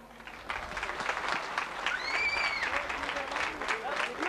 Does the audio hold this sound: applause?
yes